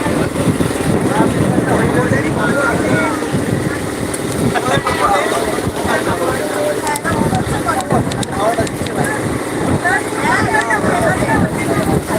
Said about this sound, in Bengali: আমাদের সামনে আরো লঞ্চ যাচ্ছে ওই দিক দিয়ে